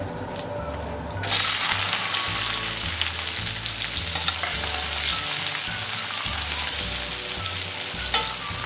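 Chopped onion frying with cumin seeds and cardamom in hot oil in a pan, a steady dense sizzle that swells after the first second and keeps going, with occasional stirring scrapes and no voices.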